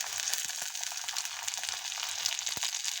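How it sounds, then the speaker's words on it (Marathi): Curry leaves sizzle and crackle in hot oil with browned onions for shev bhaji, a dense close frying hiss with sharp little pops and spatters throughout. "कांदा लाल झाल्यावर आपण त्यामध्ये कढीपत्ता टाकून घाला आहोत."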